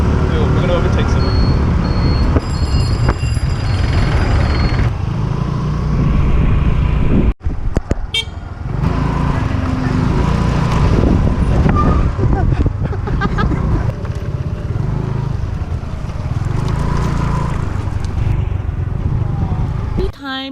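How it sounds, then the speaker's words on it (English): Motorbike riding along a road in Asia amid traffic, engine drone and wind rush with car and truck horns tooting nearby, a brief break partway through. "Riding a bike for the first time in Asia."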